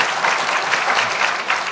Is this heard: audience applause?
yes